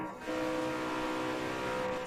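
Koenigsegg hypercar in Forza Horizon 4 speeding down a highway at over 450 km/h: a sustained, steady high-pitched engine drone with wind roar, loud and close throughout.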